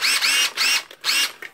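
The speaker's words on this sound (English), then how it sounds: "that was a Makita impact drill DTD146" A Makita DTD146 impact driver, freshly repaired with a new switch, anvil and front rubber, runs in three loud, close bursts of high whirring with brief gaps, then a short final blip.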